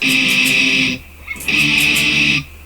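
Distorted electric guitar through a computer amp simulator rings out in sustained chords, pausing briefly before another held, buzzing chord fades out.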